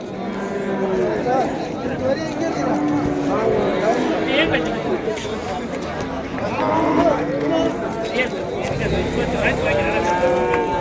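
Calves and cattle at a busy cattle market in Vaniyambadi low and moo amid constant crowd chatter, a dense, loud, continuous outdoor bustle with overlapping voices throughout.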